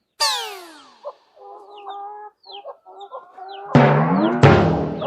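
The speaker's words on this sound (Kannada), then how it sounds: "ಕೋಳಿ ಹುಂಜ ಅದಾವ" Chickens and roosters cluck in a village courtyard, with a loud, close crow at the start followed by scattered clucks and a couple of sharp, loud squawks near the end.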